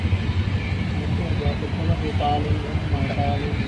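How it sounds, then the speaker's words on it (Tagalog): Steady low road traffic rumble with passing car engines, heard in the background under ongoing conversation on an overcast afternoon. "Traffic."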